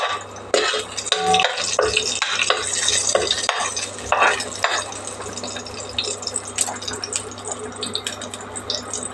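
Tempering spices fry in hot oil in a pan while being stirred, making crackling sizzle and clattering scrapes with a few sharp taps near the start and settling into a busier, steady frying noise.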